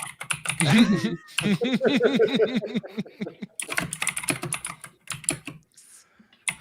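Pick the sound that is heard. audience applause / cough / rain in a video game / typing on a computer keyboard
typing on a computer keyboard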